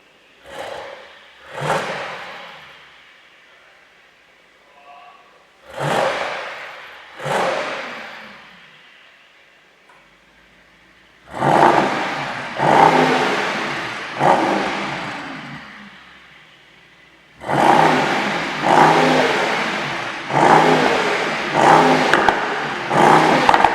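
A Mercedes-AMG GT63 with a 585 hp biturbo V8 blips its throttle in a series of short, loud revs. Single bursts come first, then clusters of rapid blips, each rising sharply and falling away, recorded close to the car.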